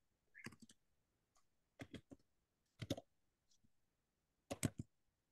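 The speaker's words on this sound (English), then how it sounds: "Much typing." Keys being typed on a keyboard, heard as quiet, sparse clusters of sharp clicks in four short bursts with pauses between them.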